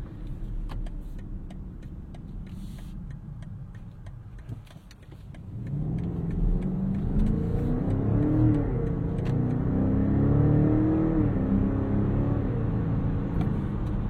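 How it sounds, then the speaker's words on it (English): A car engine idles, then revs up and holds a loud, rising growl, climbing and settling in pitch with no talking. "that is just a wonderful, honest V8 noise"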